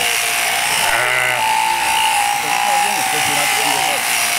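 Sheep being shorn with electric shears at a village festival procession, a steady buzzing drone running throughout with occasional sheep bleats and voices talking over it.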